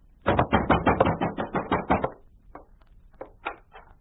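Heavy pounding on a door in an old radio drama, a fast run of about a dozen loud, close knocks, then a pause and a few softer scattered raps.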